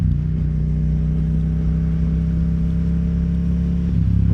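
A Yamaha XSR700 motorcycle engine holds a steady, even drone heard from on the bike while riding, a constant low rumble with no clear changes in pitch.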